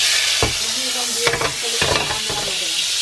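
Lechon paksiw sizzles as it is sautéed in a pan, a steady loud frying hiss with several sharp scrapes and clacks of stirring against the pan.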